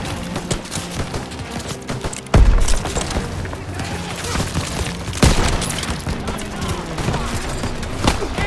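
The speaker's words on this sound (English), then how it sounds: "Grenade out!" Grenade blasts and heavy gunfire in a Call of Duty: WWII battle, two sharp booming explosions rising out of a constant dense crackle of rifle and machine-gun shots, loud and continuous, with shouted voices faintly mixed in.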